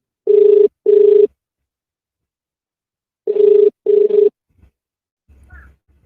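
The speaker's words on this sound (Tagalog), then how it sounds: "Ayun, nagre-ring." A phone call rings out on the line as a ringback tone: two double-burst rings spaced a few seconds apart, loud and close, then faint handling noise.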